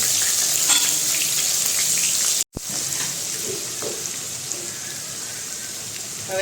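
Ginger-chili paste sizzles loudly in hot oil with cumin and asafoetida for a bitter gourd and potato curry, a dense steady crackle that drops out for an instant and then resumes with light stirring clinks.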